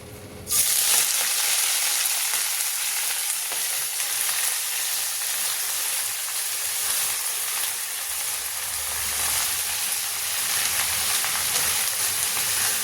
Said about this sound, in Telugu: నేను పాలకూరని కొంచెం ఫ్రై చేస్తున్నానండి, పప్పుకి కొంచెం పసరవాసన లేకుండా ఉంటుందని